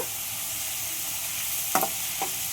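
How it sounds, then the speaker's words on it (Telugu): Ginger garlic paste frying with browning onions, with a steady bright sizzle throughout and two short scrapes of a spoon against the pan near the end, close up and without voices. "చక్కగా వేయించుకోవాలి పచ్చివాసన అన్నది లేకుండా"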